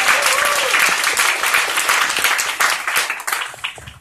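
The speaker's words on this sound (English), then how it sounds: "can we just take a moment to applaud the NYPD representative that are here" An audience claps at an event, loud, dense applause that holds steady and gradually thins toward the end, with a brief faint voice early on.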